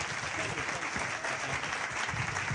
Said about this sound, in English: I want you to give a great round of applause for Richard Dolan.